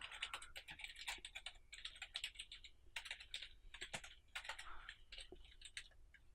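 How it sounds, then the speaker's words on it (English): Rapid, uneven keystrokes on a computer keyboard come in bursts with short pauses between them, heard close and fairly quiet while a spreadsheet graph is being labelled. "I can spell, I just can't type as it turns out"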